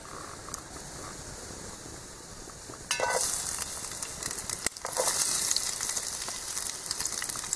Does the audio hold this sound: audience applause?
no